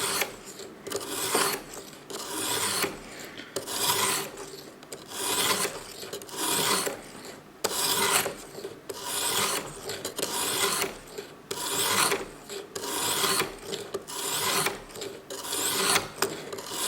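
A sharpening stone on a ViperSharp system draws across a knife blade in regular strokes, each a close rasping scrape with short pauses and faint clicks between passes, the stone moving under its own light weight.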